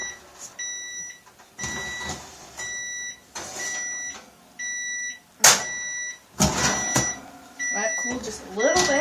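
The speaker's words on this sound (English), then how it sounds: "the buzzer's going off, so we'll have to take out the crust" An oven timer beeps in a steady series of short, bright tones about once a second while lemon bars are being made in a home kitchen, mixed with clattering kitchen handling noises.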